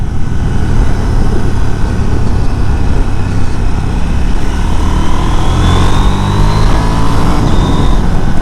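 A KTM 790/890 motorcycle pulls hard under acceleration, its engine note loud and close with rising pitch sweeps as the quickshifter snaps through gears, steady wind and road roar throughout.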